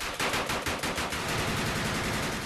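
Sustained automatic machine gun fire at a gathering of registered machine gun collectors shooting for recreation, with loud, rapid bursts that run continuously for the whole stretch and no talking.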